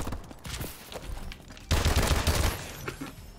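Rapid bursts of gunfire in Call of Duty: Advanced Warfare from an M1 Irons rifle landing headshots, loud and close, with a denser volley in the second half.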